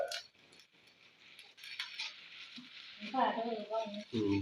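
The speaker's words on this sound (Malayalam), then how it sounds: "അതൊന്ന് വറുത്തെടുക്കണം" Pigeon peas (toor dal) roast in a hot pan, with soft dry stirring and scraping plus light sizzling, fairly quiet and close, with a few brief clinks near the end.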